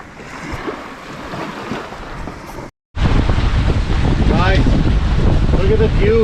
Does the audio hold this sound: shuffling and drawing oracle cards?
no